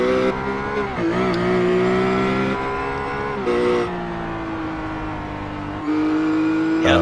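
A race car at a broadcast race event runs on the track with a loud, close engine drone whose pitch holds and shifts as it changes gear and speed.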